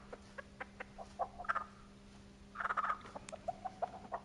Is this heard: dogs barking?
no